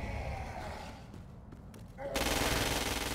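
Assault rifle fire in the video game Crackdown 2, heard as a loud, sustained automatic burst that cuts in sharply after a quieter stretch of game ambience.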